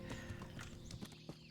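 Horse hooves clip-clop in Kingdom Come: Deliverance, a quick, even run of soft hoofbeats over about a second and a half, faint and close, with no talking.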